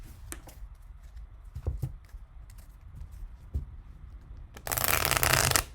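Tarot cards are handled with soft taps and slides, then a loud, close riffle shuffle bursts at the end.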